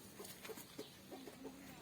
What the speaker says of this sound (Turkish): Yavruları olan tavuklardan.